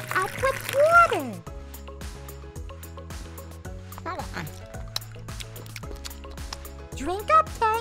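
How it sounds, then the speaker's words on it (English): Cartoonish liquid pouring and filling sounds as a puppy's water bowl fills in a Sesame Street video game, with squishy drips over a steady game music loop, bubbly bursts at the start and end. "Let's fill Tango's water bowl up with water."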